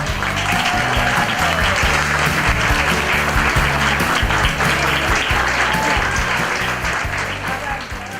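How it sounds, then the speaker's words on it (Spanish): An event audience bursts into loud, dense applause that holds steadily for about eight seconds and eases off slightly near the end. "Un fuerte aplauso para Néstor Palmetti"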